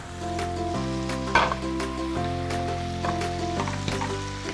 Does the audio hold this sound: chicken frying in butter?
yes